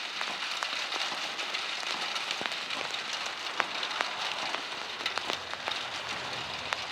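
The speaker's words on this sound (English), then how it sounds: "we got a 1 minute recording of rain done. The only issue is my coat's making a noise when the rain's landing on it" Steady, moderate rain patters outdoors, with sharp close-up taps and crackles from drops striking a coat. It carries on continuously, with no voices.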